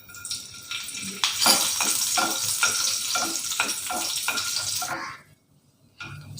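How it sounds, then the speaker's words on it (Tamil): Raisins sizzle and crackle as they fry in hot fat in a pan for semiya payasam, a steady loud frying hiss with stirring scrapes that cuts off near the end before resuming faintly. "இன்றைக்கி நான் தனியாக ஃப்ரை பண்ணுறேன் போதுங்க நான் எடுத்துக்கிறேன் இப்போ கிஸ்மிஸையும் போட்டுக்கிறேன்"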